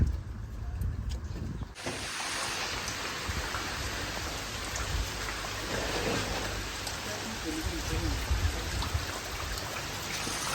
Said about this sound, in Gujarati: વરસાદ ધોધમાર ચાલુ છે